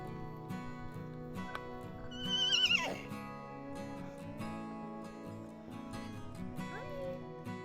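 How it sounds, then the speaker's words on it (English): Icelandic horses in a paddock give a loud, shrill whinny in the middle, a shorter neigh near the end and low snorts and shuffling, heard close up with faint speech underneath. "we made our final stop by a bunch of friendly horses"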